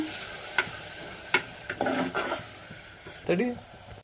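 A ground masala paste fries over medium flame for vegetable pulao, a light sizzle broken by ladle scrapes and clinks against the pot, close by, with brief bits of voice mixed in.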